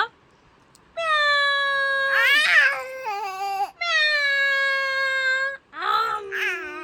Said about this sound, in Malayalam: പൂച്ച വരുന്നുണ്ട് കല്ലു.